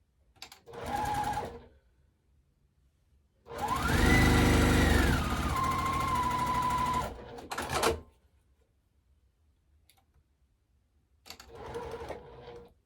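A sewing machine fitted with a quarter-inch guarded foot stitches layer-cake quilt pieces in three separate runs: a brief burst, a long steady whirring stretch with a shifting hum, then a short final burst, with quiet gaps between.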